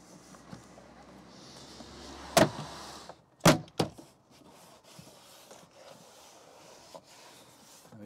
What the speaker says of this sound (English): Now let's get this door card back in place.